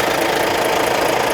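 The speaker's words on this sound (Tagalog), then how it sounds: "pinandar na natin yung makina" A truck engine with low fuel pressure from a very dirty fuel separator idles close by, a steady, loud, dense rumble with a fine knocking texture and no talk.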